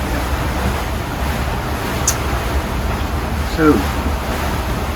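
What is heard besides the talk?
wind at sea while motor sailing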